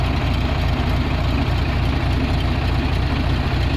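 A restored VW Beetle Superbug engine idles smoothly after a tune-up with new plugs and points, a steady, loud low rumble with even air-cooled pulses running throughout without voices.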